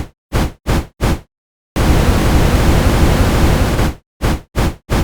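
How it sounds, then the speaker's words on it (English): A synth noise layer in Vital is gated by a volume envelope and sent through a room reverb, firing short bursts of hiss in quick rhythmic hits around one long sustained wash of noise. "that is just a noise that I'm kind of playing hits on that I've set up an envelope for"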